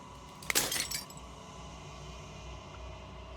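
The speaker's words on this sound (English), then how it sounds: "Final fragment of glass shatters." Glass shattering in the video game Slay the Princess: a single bright burst of breaking fragments with a short tinkling tail, then fading into a low, quiet ambient hum.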